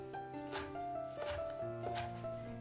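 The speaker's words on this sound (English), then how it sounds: "Cut the cilantro into chunks." A knife chops fresh cilantro into chunks on a cutting board, a few crisp chops spaced about a second apart, close and clear over soft background music.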